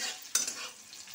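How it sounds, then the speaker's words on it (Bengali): Bitter gourd stir-fried with panch phoron in hot oil gives a close, brisk sizzle with a sharp scrape of stirring partway through, and no one speaks. "উচ্ছেটা 5 ফোড়ন দিয়ে একটু নেড়ে নিচ্ছি"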